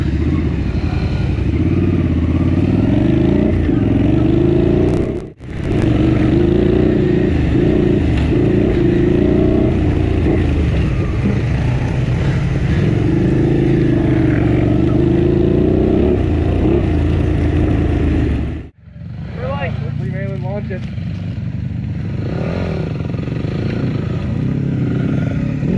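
Cheap motorcycle engine droning loudly and steadily while being ridden, with rough clattering texture and two brief dropouts, close and continuous with wind and road noise mixed in.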